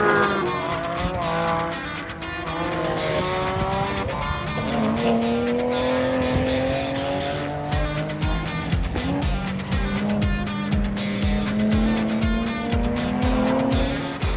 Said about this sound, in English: EV Minis. Sound like bloody planes taking off going down here.